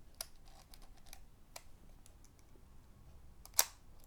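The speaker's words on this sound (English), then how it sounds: "really quiet shutter" A 1976 copy of a 1930s Contax II rangefinder camera fires its very quiet shutter once near the end as a short, soft click, after a few faint taps in a hushed room.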